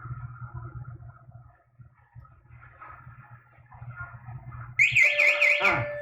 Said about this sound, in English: The alarm got me. My own alarm got me.